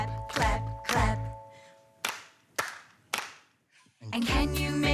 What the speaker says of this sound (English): And can you make your hands go clap, clap, clap?